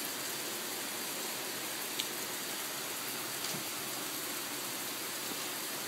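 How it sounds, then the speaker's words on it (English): Steady rain falling outdoors during a lightning storm, a constant even hiss of drops on surfaces with a couple of faint ticks, no voices. "Rain."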